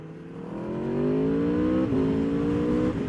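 Aprilia RSV4 motorcycle engine pulling hard under acceleration while riding, a steady rising whine with a brief dip around a gear change, loud and close with no talk.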